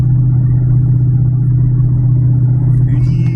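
Continuous low car engine rumble from inside the cabin while driving, steady and loud, with a faint higher noise creeping in near the end.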